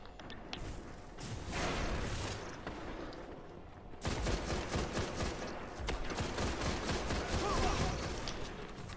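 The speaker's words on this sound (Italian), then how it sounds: "Stavo usando i colpi esplosivi e basta" Rapid bursts of explosive-round gunfire in the Destiny video game, loud and dense, with a sharp jump into heavier fire partway through.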